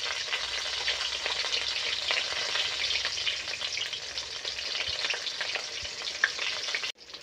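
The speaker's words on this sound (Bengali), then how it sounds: "দেখো আমার কিন্তু এগুলো ভাজা হয়ে গেছে" Food frying in hot oil in a kitchen makes a dense, even sizzle that carries on steadily and then cuts off abruptly near the end, with no speech.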